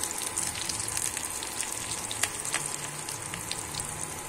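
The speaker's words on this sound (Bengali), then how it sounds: "এবারে ফোড়নে দিয়ে দেবো কিন্তু কালো জিরে।" Nigella seeds tempering in hot oil in a pan already holding potatoes, crackling and sizzling continuously with small sharp pops, close and moderately loud.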